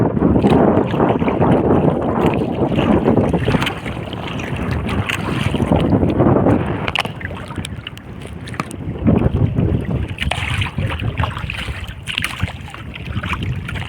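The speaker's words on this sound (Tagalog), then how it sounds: "Hindi natin kayang lumaban sa hangin." Strong wind roars against the microphone while water churns and splashes around a small paddled boat being pushed by the wind, loud and continuous with surging gusts.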